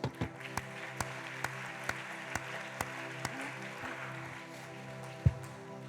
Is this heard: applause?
yes